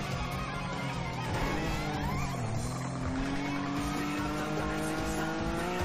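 A sports car in GTA roleplay drives hard with a steady engine drone and long tire squeals that rise and fall through the whole stretch, loud and continuous with no talk.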